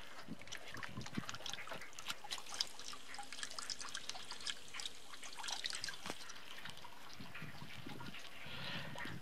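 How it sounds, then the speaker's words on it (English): Water sprays and trickles from a leaking black hose solar water heater, a steady faint hiss with scattered drips and splashes, heard alone from nearby. "we got water spraying up here"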